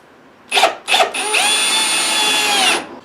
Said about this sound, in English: I'm drilling next to it.